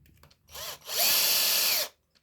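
An electric screwdriver drives a screw into the wooden scale of a Laguiole knife handle: a short whirring burst, a brief pause, then a longer, loud whine that climbs in pitch as the screw bites, heard close and alone.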